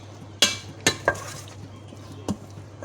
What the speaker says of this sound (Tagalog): Halo-haluin lang siya.